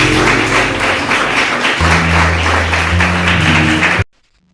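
Loud, dense applause from an audience at a religious talk, with a low musical drone underneath, cutting off abruptly into silence near the end.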